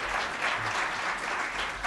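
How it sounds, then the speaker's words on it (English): Symposium audience applauding panelists: dense, steady clapping from a large crowd fills the room throughout, with no talking over it. "So please give them a round of applause."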